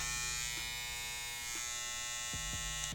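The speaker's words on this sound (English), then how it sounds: "This is the Babyliss skeletons." Babyliss Skeleton hair clippers run with a steady, close electric buzz that holds an even pitch throughout, with a few faint clicks and no voices.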